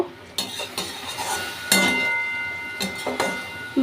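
Soybean curry ingredients and water are stirred in a pan, with clattering strokes of a spoon against the metal and a light sizzle underneath, close and without speech.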